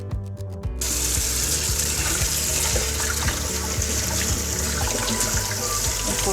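Water runs from a kitchen tap while beef short ribs are rinsed for Korean LA galbi. A steady, hissing splash starts after a brief pause and continues evenly and close throughout.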